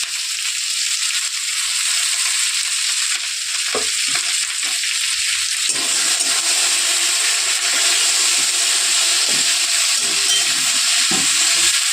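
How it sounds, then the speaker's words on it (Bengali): Chopped onion greens fry in fish oil in a pan while being stirred, producing a steady, close hiss of sizzling with scraping stir strokes throughout and no talk. "এগুলো নাড়াচাড়া করে নেব করে দিয়ে দেবো মাছের তেলটা"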